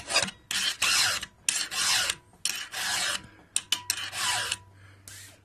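A metal file rasps across saw teeth while sharpening a saw, in repeated loud strokes with short pauses between them, alone with no talk.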